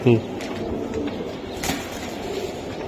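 Racing Giribaz pigeons, a Golden cock among them, coo in a loft amid other birds, with people talking throughout and a brief louder flutter near the start.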